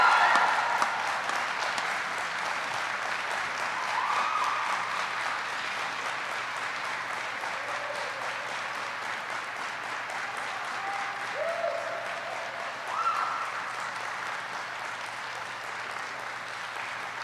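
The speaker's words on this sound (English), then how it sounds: "Please join me in a round of applause for the Army's newest aviation warfighters." An audience at a U.S. Army flight school graduation ceremony claps steadily and at length, a dense, even wash of applause that fades slightly, with a few faint voices over it.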